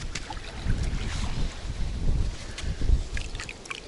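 Steady wind rushing and buffeting outdoors at a fishing spot by the water, with low rumbling gusts and faint water sounds, no voices.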